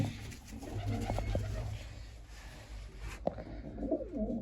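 Pigeons kept in a loft coo softly in low, murmuring tones at close range, joined by scattered clicks and one sharp knock near the end.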